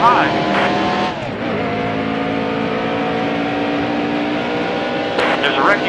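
Race cars roar in a racing game during an Outlaws Evolution event, engines holding a steady loud drone with revving swells and passes around the listener. A spotter's voice talks over the engine noise.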